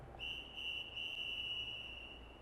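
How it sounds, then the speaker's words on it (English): A long, drawn-out whistle blast sounds as a single steady piercing tone that holds for about two seconds in quiet woods, then ends, set over a faint background hush. "the drawn-out whistle blast was deafening."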